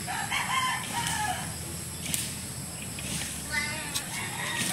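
A rooster crows on a farm among seedling plots, its call rising a few times over steady outdoor background noise, moderately distant and fairly faint.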